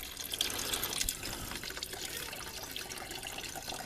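Gasoline drains into a homemade drain catch pan in a steady, close splashing trickle of liquid. The pour carries on evenly from start to finish with no voices.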